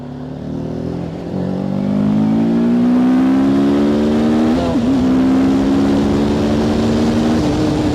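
TVS Apache RTR 310 motorcycle accelerating hard in sport mode, its engine note rising steadily through the revs, loud and close, with a brief dip at a gear change before climbing again.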